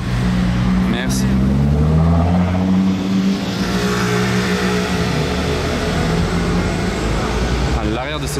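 A sports car's engine revs and drones loudly up close on a Monaco street at night during the Grand Prix weekend, with the pitch climbing and falling while someone talks nearby.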